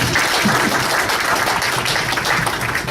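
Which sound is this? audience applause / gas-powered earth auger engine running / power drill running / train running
audience applause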